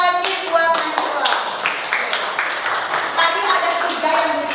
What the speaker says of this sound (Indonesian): tepuk tangan lagi buat Nashwa.